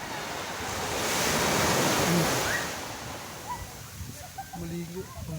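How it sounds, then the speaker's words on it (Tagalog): Sea waves wash onto a beach in a steady rolling surge that swells to a peak and then eases, with wind buffeting the microphone and a few faint voices breaking in near the end. "Ang ganda ng dagat."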